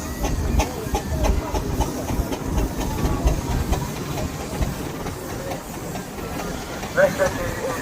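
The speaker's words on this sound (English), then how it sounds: "The next one is a Fowler Agricultural called Enterprise." A Fowler agricultural steam traction engine named Enterprise runs at the West of England Steam Rally 2025, giving off a steady rumbling chuff and hiss with a brief whistle-like note near the end, heard beneath a commentator's voice.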